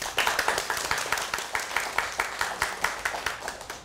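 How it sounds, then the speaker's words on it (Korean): Audience at a Korean TV lecture clapping in unison, a rhythmic series of sharp, evenly spaced claps that holds a steady pulse from start to finish. "박수."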